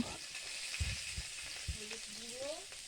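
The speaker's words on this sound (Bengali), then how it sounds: "সেদ্ধ করা আলুগুলো দিয়ে দিলাম। এটাকে এবার ভাজবো" Boiled potatoes sizzle and crackle steadily in a hot pan close by, with a few soft stirring knocks and a brief clink against the pan.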